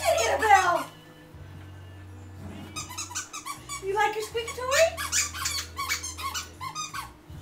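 Squeaky dog toy squeezed in quick bursts of shrill high squeaks, irregular and close, with a dog growling low beneath and people talking over it.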